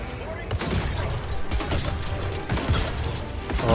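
In the video game Helldivers, a sentry robot's gun fires in rapid bursts with booms and mechanical clatter, loud and dense, mixed with voices.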